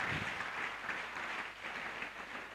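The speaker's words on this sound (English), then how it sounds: "Please, another round of applause for the daughter of the soil" Audience applause at a public engagement forum in Ibadan, a steady, fairly quiet wash of clapping that continues throughout without voices.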